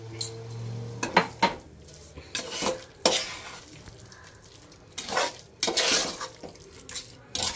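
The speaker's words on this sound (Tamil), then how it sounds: "இந்த பேஸ்ட் போட்டோம் இல்லையா அது ஒரு நல்லா ஒரு 2 நிமிஷம் வதக்கிக்கோங்க" A spoon scrapes and stirs a paste sautéing in a pan for chicken gravy, with repeated clinks while a soft sizzle of frying runs underneath.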